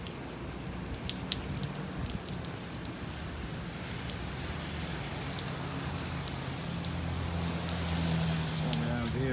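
Rain patters on a soft-top Jeep Wrangler Sahara Unlimited, a close, steady drumming of drops with sharp individual ticks over a low rumble, swelling slightly toward the end.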